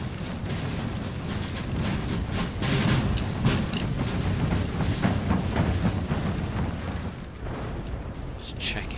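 Continuous booming rumble of cannon fire and explosions in the video game Napoleon: Total War, dense and loud throughout, with faint voices buried underneath.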